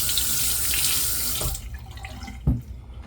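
A faucet runs into a sink while a face is washed, a loud steady stream that cuts off partway, followed by a few quieter splashes and a thump.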